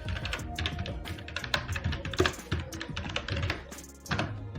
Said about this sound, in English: So here in the search bar we can type something like motivational speech.